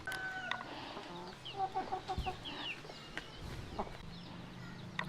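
Aseel chickens on a breeding farm clucking and calling in scattered bursts, moderately close over a quiet farmyard background, with no talk.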